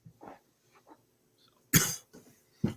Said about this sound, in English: Gotta have a coughing fit, excuse me.